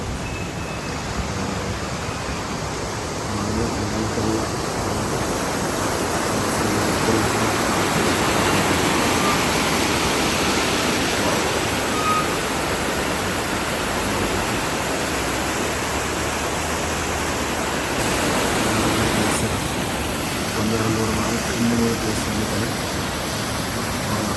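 A waterfall of cold mountain water pours steadily, a dense, continuous rushing roar that stays close and even, with slight swells in intensity and no other sounds standing out.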